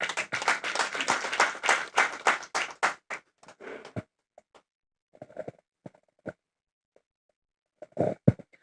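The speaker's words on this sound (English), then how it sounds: "A round of applause." A workshop audience in a hotel claps loudly for about four seconds, then the applause thins to a few scattered claps and taps with long quiet gaps.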